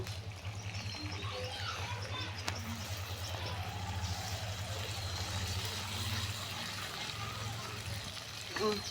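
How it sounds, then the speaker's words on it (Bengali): A little water poured into spice paste of turmeric, ginger, garlic, cumin, chili powder and salt frying in a pan, giving a soft trickle and sizzle over a low steady hum. "মশলা কষার জন্য একটু পানি দিয়ে দেব।"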